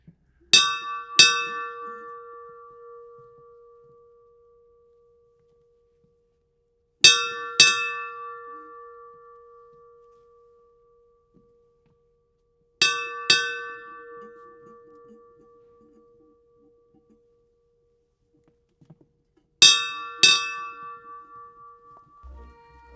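Ceremonial bell at a high school graduation alumni ceremony, struck four times at long even intervals, each ring a double strike with a bright metallic ring-out that fades into silence, close and clear.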